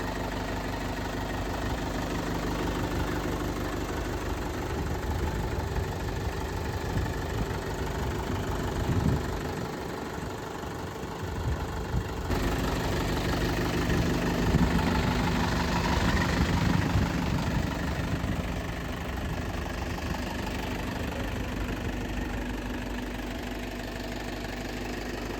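A Mahindra tractor engine idles steadily for a long stretch, a low, even knocking rumble with a slight shift in tone midway.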